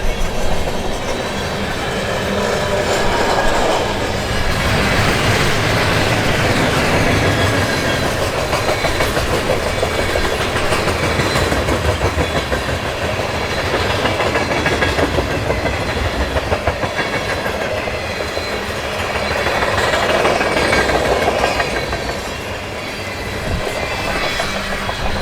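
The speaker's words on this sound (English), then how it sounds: "especially with all these tankers that I'm seeing coming around the bend now" A long freight train hauling tanker cars rolls past on the rails, a steady continuous rumble with rhythmic clickety-clack of wheels over joints, swelling and easing as cars pass close by, no voices.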